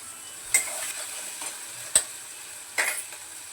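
Ginger garlic paste frying in a pan for matar paneer, a quiet steady sizzle broken by three sharp spoon clicks against the pan, close up with no talk.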